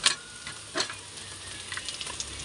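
Ginger sautéing in a pan, a soft steady sizzle with a few sharper crackles and ticks as it fries, close and fairly quiet with no one talking.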